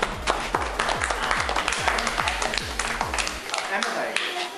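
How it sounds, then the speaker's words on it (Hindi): Applause for a student who has just polished a piece of furniture, a rapid run of sharp claps from a small group filling the room, with a voice speaking underneath. "तालियां जी फैल के लिए।"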